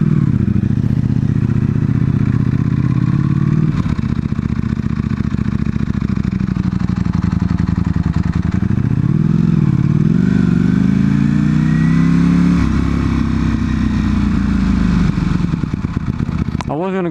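Superbike engine droning steadily while riding, rising and falling with throttle changes and wind noise throughout, loud and close.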